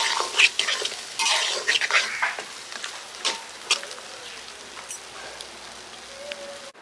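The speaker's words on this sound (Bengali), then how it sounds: "মশলার সাথে কচু ছড়া খুব সুন্দর করে মিশিয়ে নেব।" Spoon scraping and stirring chopped taro stolons with spices in a pan, producing irregular close scrapes and light sizzling clicks throughout, with no talking.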